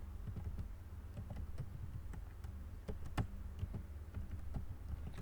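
Rapid, irregular key clicks on a computer keyboard while someone enters a table name, soft and close, with a steady low hum underneath and no talking.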